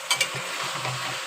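Fried pointed gourd and potato are tossed and sautéed together in a pan, with two quick scraping stirs at the start and then a soft, steady frying sizzle at moderate distance.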